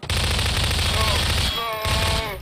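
Rapid automatic gunfire from the Prop Hunt video game rattles loud and close in two bursts separated by a short gap, with a tonal whine running under the shots.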